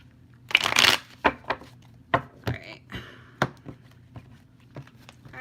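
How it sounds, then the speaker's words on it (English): A deck of tarot cards is shuffled up close: a loud riffle burst, then a string of sharp taps and slaps as the cards are squared and cut, with short quiet gaps between them. "One more shuffle."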